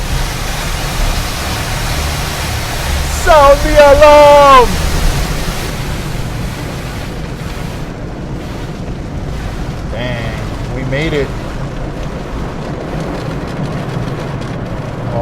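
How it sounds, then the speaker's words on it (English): A car rolls through an automatic car wash, steady rushing water and brush noise filling the clip with a dense wash of sound, while people talk and exclaim over it. "here comes the water, the soap, those things that slap your car"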